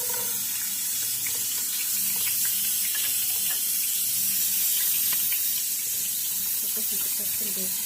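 Steady tap water runs in a kitchen sink while onions are rinsed, a continuous broadband hiss with small splashy flickers, close and fairly loud, no one speaking over it.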